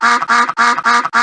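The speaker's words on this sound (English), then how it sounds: "Mandarin duck." Mandarin duck calling: a quick run of five loud, harsh, evenly repeated nasal calls, close up and isolated.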